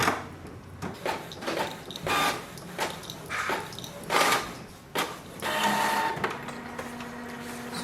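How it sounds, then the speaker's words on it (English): A Canon PIXMA MG3620 inkjet printer prints a page nearby, with repeated whirring bursts of the print head and paper feed separated by brief pauses, then a steady mechanical hum at the end. There is no talking. "give a print command. Now wait for the printer."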